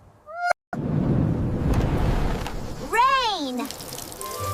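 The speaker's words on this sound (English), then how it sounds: "Rain! Drip, drop!" Cartoon rain falls as a steady loud patter, broken by a brief gap, with a short whistling tone and a wavering sung or squeaky cartoon sound near the end.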